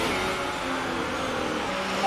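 Race car engines hum steadily on a formation lap in the F1 2018 racing game, a continuous even drone of several cars held at low revs with no sharp changes.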